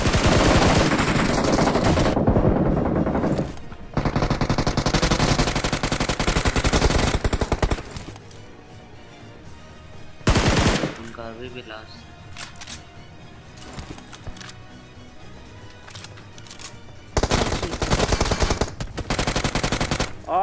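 Bursts of automatic gunfire in the BGMI battle royale game, loud rapid volleys at the start, middle and end with quieter stretches between, no talking.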